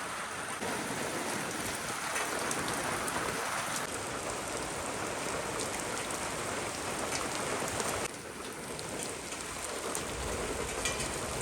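Steady rain falls at night during a stormy spell, a dense, continuous hiss of drops on surfaces that holds at an even level throughout, with a slight drop in intensity partway through and no voices.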